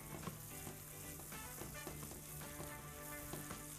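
Vermicelli caramelizing in a pan with onion, whole black peppercorns and cinnamon makes a soft, continuous sizzle with light stirring, faint and low in level, with a tonal background.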